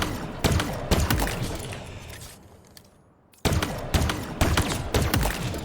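Stalker Rifle fire in Halo Infinite, loud and close: a steady run of heavy shots at a moderate pace, with a short lull midway before firing resumes in evenly spaced bursts.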